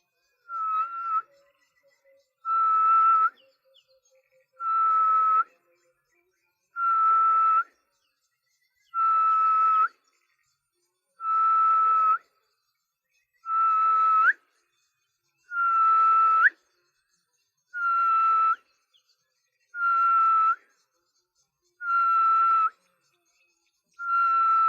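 A person whistles an imitation of a grey-headed bushshrike call: about a dozen evenly spaced, loud, close, sustained whistled notes repeated at a steady slow rhythm with short gaps between them.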